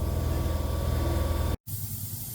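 A spray gun lays a pearl paint coat on a car body, a steady, close broadband hiss that cuts off sharply for a moment, then resumes more softly with lower rumble underneath.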